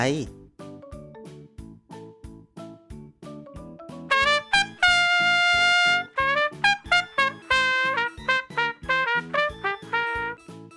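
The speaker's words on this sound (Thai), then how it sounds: "เสียงของเครื่องดนตรีทรัมเป็ตครับ" A trumpet plays a bright, brassy melody with one long held note in the middle, backed by a steady bouncing bass line.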